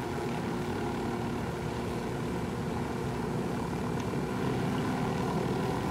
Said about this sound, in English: There's a Unidad helicopter.